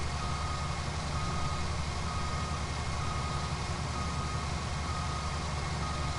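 Steady reversing beeps from a truck in the farming video game Farming Simulator 19 repeat evenly over a constant low engine drone, moderately quiet and with no talk.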